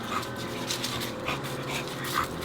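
A large dog pants steadily and lets out small whimpers, close and fairly quiet, over a continuous rumble that sounds like the inside of a moving Chevrolet Silverado pickup truck.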